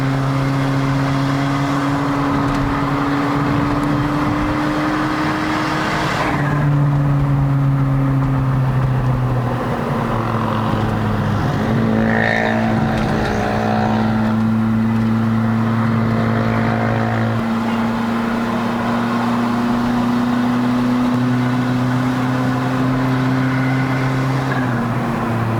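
A turbocharged Perodua Bezza 1.3L with a bolt-on turbo strains uphill on a mountain road, its engine droning loud and steady with shifting pitch throughout, close and continuous without talk.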